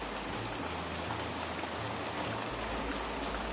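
Steady rain falling outside a house beside a road, a dense even hiss with no breaks, filling the whole stretch with no voices.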